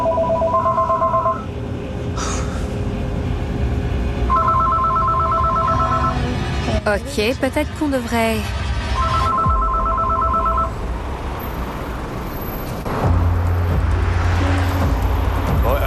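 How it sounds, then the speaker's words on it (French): A telephone rings in repeated bursts of electronic trilling tones, loud and close, with traffic-like rumble and clattering noise between rings during a paranormal investigation; someone speaks briefly in French. "Je suppose que la sonnerie du téléphone leur a fait très peur."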